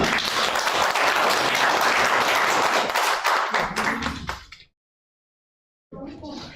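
An audience at a lecture applauds the speaker with dense, loud clapping for about four seconds that thins to scattered claps, then silence before more sound returns near the end.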